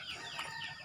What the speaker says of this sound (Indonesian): Di sini cuma ada suara burung, suara ayam gitu ya.